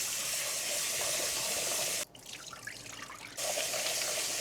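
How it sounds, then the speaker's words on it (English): Chopped potatoes are rinsed under a running tap in a kitchen sink, a steady splashing stream that briefly drops to softer trickling and clinking before the full flow resumes. "Now I'm just gonna rinse them off a little bit because there was some dirt still on there."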